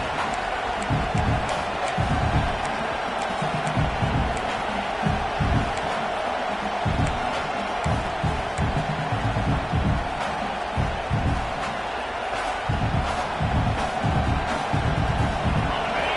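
A college football stadium crowd roars steadily throughout, a dense, loud, sustained wall of cheering with no clear breaks.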